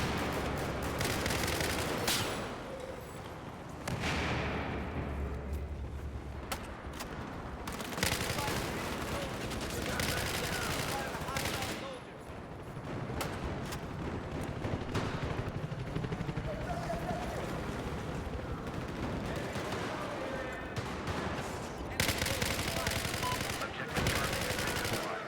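Dense gunfire in the video game Battlefield multiplayer, sustained rapid automatic bursts and booming shots in heavy overlapping streams, loud and near, with a player talking over parts of the fight.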